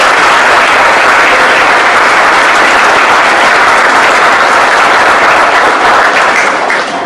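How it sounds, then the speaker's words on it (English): Loud, sustained applause from a crowd at a civic gathering about a Pawtucket soccer stadium, a dense unbroken roar of clapping that holds for several seconds and eases slightly at the end. "Can we have a round of applause?"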